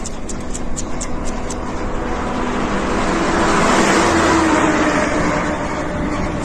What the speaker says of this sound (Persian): یا حسین بازم زلزله بازم زلزله